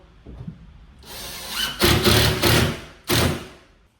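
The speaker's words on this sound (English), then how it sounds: "Now all we got to go do is put in some more screws and we will be good." A power drill drives screws into sheetrock in a hallway, with several loud, close whirring bursts of roughly half a second to a second each, separated by short pauses.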